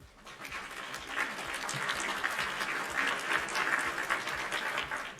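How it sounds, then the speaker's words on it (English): Sustained applause from a crowd at a two-year channel anniversary show, many hands clapping steadily for several seconds, loud and dense throughout. "So a big round of applause."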